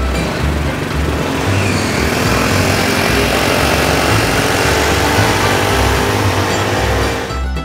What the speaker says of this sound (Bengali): সিএনজি গুলো যখন পাহাড়ের চড়াইয়ের উপরে ওঠে তখন এর ইঞ্জিন খুবই কঠিন অবস্থার মধ্যে পড়ে